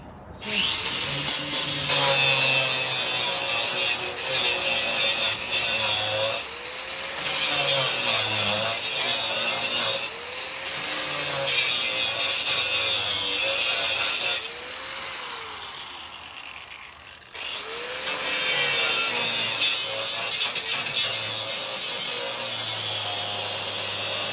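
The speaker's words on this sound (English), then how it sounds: "I think we need to grind off inside the lock part." A power grinder cutting into the lock of a safe, a loud continuous whirring grind that repeatedly bogs down and revs back up in pitch, close, with brief pauses between passes.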